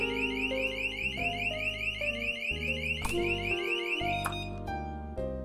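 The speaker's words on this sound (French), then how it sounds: "vous pouvez faire déclencher du coup l'alarme et faire l'éjection du gaz" Tear gas home security alarm sounding its panic siren, a loud piercing electronic wail with stepped, shifting tones that continues steadily and cuts off near the end.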